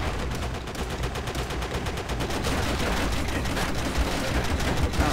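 Sustained machine gun fire in the PC shooter Call of Duty: World at War, loud rapid bursts rattling on without a break across a dense, noisy battlefield mix.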